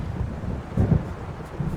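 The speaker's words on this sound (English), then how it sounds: "It seems there's a storm coming." Low, rumbling thunder of an approaching storm by the sea in the Alan Wake video game, a distant continuous roll that swells briefly and then settles back.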